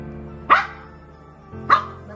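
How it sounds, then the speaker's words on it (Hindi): A dog barks twice, about a second apart, each bark sharp and fairly close, with a steady low hum underneath and no talking. "दफा हो पागल कुत्ता रामी"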